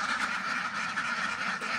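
Khaki Campbell ducklings in a brooding pen, a continuous dense chorus of overlapping quacks and peeps, close and fairly faint.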